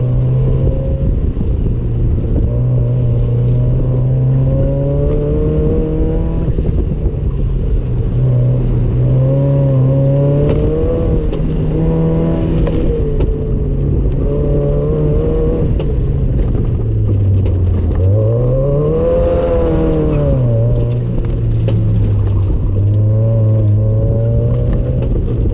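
A 2002 Subaru WRX drives at an autocross shakedown event, its engine a loud, continuous drone whose pitch rises and falls as the car revs and slows through the course.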